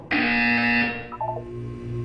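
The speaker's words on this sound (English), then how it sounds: "When you hear the buzzer, look down at the floor." An electronic test-chamber buzzer from the Portal 2 video game sounds once, a loud sustained harsh tone for about a second that cuts off abruptly, followed by a few fainter blips over a low hum.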